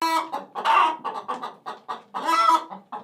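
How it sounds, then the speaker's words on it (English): A chicken clucks in a quick, uneven series of short calls, with two longer, louder squawks standing out, close and clear with no other sounds. "Chicken."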